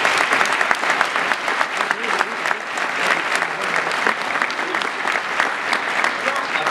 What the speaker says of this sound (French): J'aimerais ça qu'on les applaudisse, s'il vous plaît.